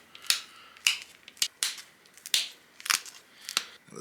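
A stone axe is resharpened by flint knapping, with about seven sharp, crisp stone-on-stone cracks as flakes pop off. The strikes are close and spaced unevenly with quiet gaps between them, and nobody talks.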